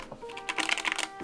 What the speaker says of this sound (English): That's the typing experience that I like.